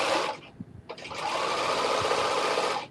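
A sewing machine hems black fabric in a fast, steady mechanical whir, starting and stopping in short bursts before one longer run of stitching, close and loud.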